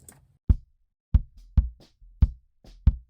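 Kick drum track without plugins, five dry low thuds in an uneven beat with short ringing tails and a faint bleed of other drums between hits.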